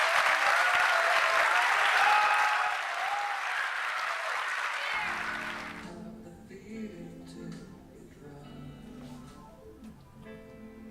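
An audience at a short film festival claps loudly for about five seconds, then the applause fades out into quieter background sound.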